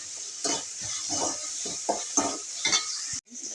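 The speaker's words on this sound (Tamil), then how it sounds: "தக்காளி நல்லா வதங்கட்டும்" Tomatoes sauté in a pan for bottle gourd koottu, with a soft sizzle under repeated spatula scrapes and stirring knocks in an irregular rhythm, ending abruptly.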